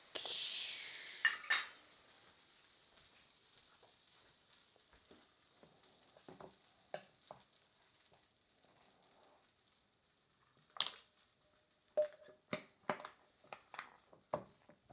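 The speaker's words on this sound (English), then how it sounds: "Are we burning our pupusa? Oh, we're just searing it off." Pupusa searing in a hot pan: a faint steady sizzle, mostly in the opening seconds, then quieter with scattered sharp clicks and taps of a utensil against the pan.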